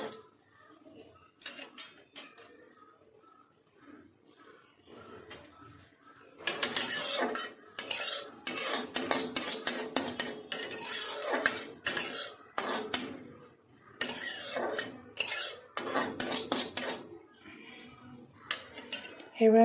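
Poppy seeds are stirred as they fry in a pan for a vegetarian potato dish, with repeated scraping and clinking of a utensil against the metal, near and fairly loud in bursts between quieter pauses.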